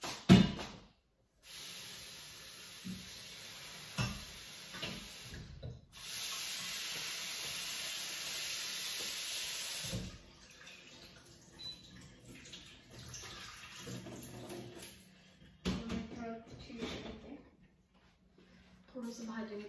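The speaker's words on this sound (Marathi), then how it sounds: "आता मी भाजी धुवून घेते." Fenugreek leaves are washed under running tap water, bringing bursts of steady gushing and spraying separated by quieter handling and splashes.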